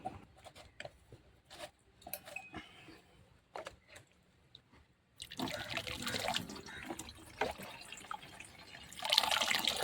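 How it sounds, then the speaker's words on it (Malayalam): Water is poured into ground arrowroot and stirred while it is sieved. It starts quiet with faint clicks and taps, then turns into close, steady sloshing and splashing that gets louder toward the end. "ഒന്നുകൂടെ വെള്ളമൊഴിച്ചിട്ട് നന്നായിട്ടൊന്ന് ഇളക്കി വീണ്ടും അരിക്കാം"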